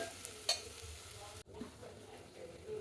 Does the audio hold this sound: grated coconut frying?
yes